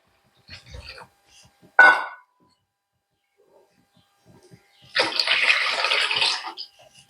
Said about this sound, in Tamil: ரெண்டு கப்பு தண்ணி ஊற்றிக்கலாம்